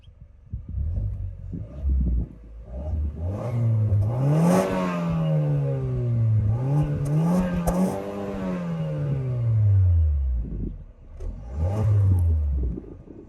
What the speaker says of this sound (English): Let's show you guys the exhaust sound.